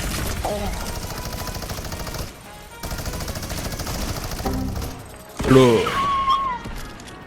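Rapid bursts of gunfire ring out in a Fortnite Creative map match, with shots repeating over several seconds and a voice talking excitedly near the end.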